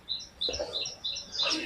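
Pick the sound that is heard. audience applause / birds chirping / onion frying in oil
birds chirping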